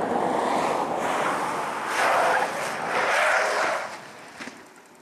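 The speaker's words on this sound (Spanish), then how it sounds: "El deslizamiento de las ruedas es grande y estamos lejos de completar la maniobra correctamente." A 2016 Fiat Tipo five-door's tyres skid and hiss during a moose-test swerve at 77 km/h, a broad rushing scrub that swells twice mid-manoeuvre over wind noise before fading out.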